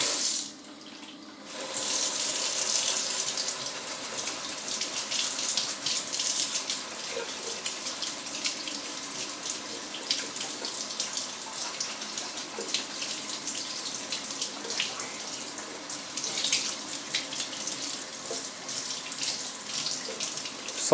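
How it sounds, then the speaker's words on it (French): Hot water runs from a kitchen tap into a container beside a dirty plate with dried ketchup, a steady close splashing rush that starts after a brief quiet moment and continues unbroken, without talking. "On va prendre un peu d'eau chaude aussi."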